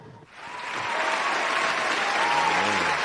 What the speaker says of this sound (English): Round of applause for determination.